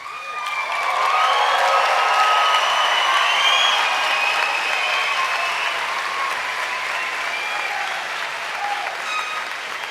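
A commencement audience at a university health sciences graduation ceremony applauds the graduates, sustained dense clapping that swells quickly and holds loud for nearly ten seconds before easing slightly.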